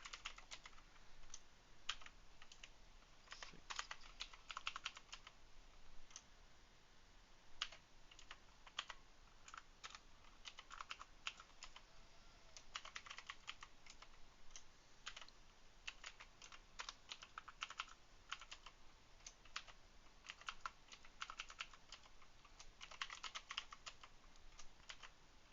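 Steady typing on a computer keyboard, quiet and close, with irregular bursts of key clicks running throughout and no voices.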